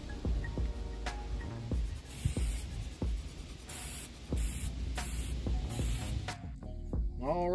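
Plasti Dip coating sprays onto fishing rod holders in several short hissing bursts separated by pauses, close and fairly loud over a steady background hum, with faint knocks and clicks between sprays.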